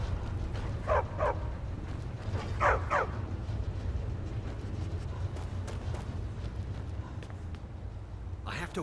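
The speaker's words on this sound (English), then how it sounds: "Don't mind the dogs. They get anxious." Dogs bark in the Skyrim video game, sending out two quick pairs of barks at moderate distance over a steady low ambient hum, followed by faint scattered clicks and rustles.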